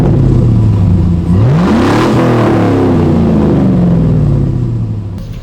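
A 2006 GMC Sierra 1500 SLE Crew Cab Z71 pickup with its Flowmaster muffler removed revs loudly and up close, with a raw, open exhaust note that climbs, peaks and falls away in a single sustained rev.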